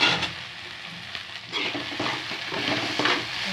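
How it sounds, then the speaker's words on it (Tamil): Sliced okra stir-frying with chili powder in a pan for a Tamil vendakkai poriyal, a steady close sizzle with scraping stirring strokes throughout and no voices. "நல்லா ஒரு அஞ்சு நிமிஷம் நல்லா வதக்கி விட்டுக்கலாம் இந்த மிளகாத்தூள் வாசனை போகிற வரைக்கும்"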